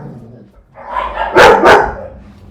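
A pet puppy lets out two loud, close barks in quick succession indoors, preceded by a low whine or murmur, with no other talk.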